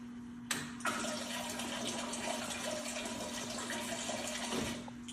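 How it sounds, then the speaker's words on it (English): Pour X-Press 2000 wax melter pump dispensing melted candle wax, a steady rushing flow with a constant pump hum, starting abruptly and running for several seconds before tapering off. "open the ball valve, turn on the pump power button, and activate your dispenser."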